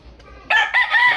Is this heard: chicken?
yes